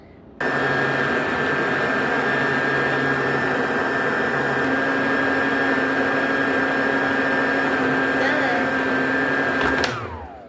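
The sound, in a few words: hooded hair dryer running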